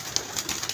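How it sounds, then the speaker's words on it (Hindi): A pigeon at a pigeon club loft gives soft, brief coos over a steady outdoor hiss, a few faint throaty notes close by with no voices. "ये वाला कबूतर।"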